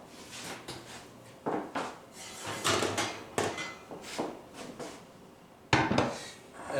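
A heavy Dutch oven pot, preheated in a 450-degree oven, being fetched and handled, with a series of close metallic clanks, thuds and scraping knocks at an irregular pace, without voices.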